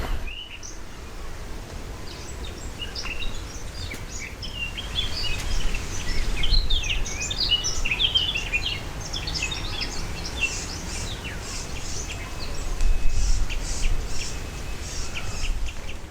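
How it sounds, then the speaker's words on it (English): Birds chirp and trill outdoors on a hillside above the Bay of Funchal, with many overlapping high calls from several directions over a low, constant background rumble throughout. "Listen to those birds too."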